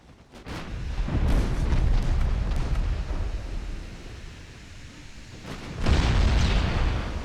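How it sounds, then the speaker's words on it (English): Main guns of a warship booming in a naval battle game set in an 1893 Ottoman campaign, two heavy rolling blasts a few seconds apart with deep rumbling between them. "Use your main guns on Tyrol."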